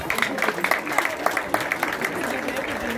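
An audience at an award occasion clapping for themselves, a light, scattered patter of hand claps at moderate distance, irregular and thin rather than a full ovation.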